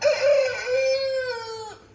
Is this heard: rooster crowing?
yes